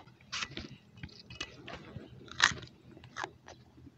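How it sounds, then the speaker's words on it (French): A wild root eaten raw out in the savanna, chewed close to the ear: uneven crunchy bites and wet chewing snaps, some sharp and some softer, with quiet pauses between them and no talk. "Je consomme tout simplement cette racine qui va me donner de l'énergie"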